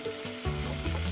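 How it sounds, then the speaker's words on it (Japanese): Meat stir-frying in a pan for Japanese-style curry, scraped with a straight-edged spatula; a steady close sizzle swells louder partway through, with no talk. "こういうね先っぽがストレートになってるヘラで炒めていきます。"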